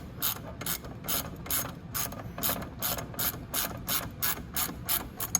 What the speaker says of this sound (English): I just want to tighten it in a little tiny bit.